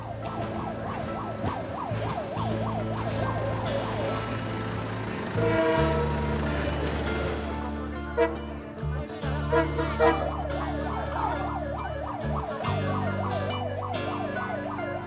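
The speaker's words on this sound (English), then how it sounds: "A safety vehicle ahead announces the passage of each train with loud honking." Warbling electronic siren wails from a safety vehicle running ahead of a train on Peru's Southern Railway, loud and repeating at the start and again near the end, over a steady low engine and rail rumble.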